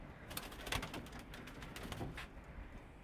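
Soft, low pigeon-like cooing repeats a few times against a steady background hiss, fairly faint and close.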